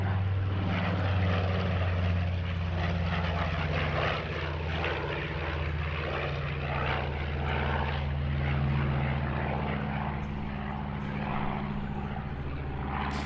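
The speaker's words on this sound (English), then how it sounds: "the world's only flying Nord 2501 Noratlas" A Nord 2501 Noratlas, a twin-engine propeller transport from 1949, flies at an airshow in Jersey. Its engines give a loud, steady drone with a deep propeller hum that holds throughout, with no talk over it.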